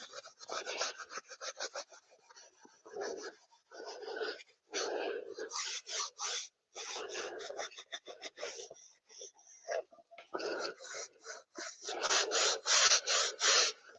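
Steel wool rubbed back and forth over a finished surface to scuff it before a new coat, a close, steady raspy scrubbing in uneven bursts with brief pauses.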